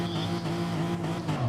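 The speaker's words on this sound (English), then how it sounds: "All the lights are coming on now, the revs are coming up." Race car engines rev on the grid before the start of a racing video game, a loud, dense, sustained roar with a high whine that wavers and climbs together.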